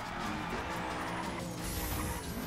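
A McLaren supercar in the racing game The Crew grinding and skidding at speed, a steady, loud roar of engine and scraping tires with a rising tire squeal toward the end, no talk over it.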